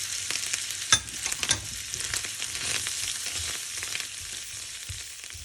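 Yellow, red and green capsicum being stirred as it fries in a pan: a steady hiss of sizzling oil with scraping stirs and one sharp utensil knock early on, close and continuous.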